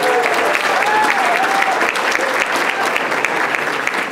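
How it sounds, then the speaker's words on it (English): Steady, sustained audience applause fills a hall at a panel event on social services in Illinois, dense clapping from a crowd that continues evenly throughout without pause. "Give him another round of applause."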